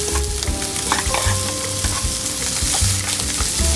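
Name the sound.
butter sizzling in a pan with pre-boiled meat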